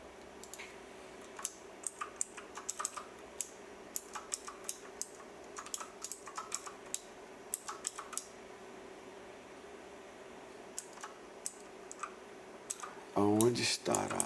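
Quick, irregular keyboard clicks tapping away at close range, with a brief louder rustle near the end.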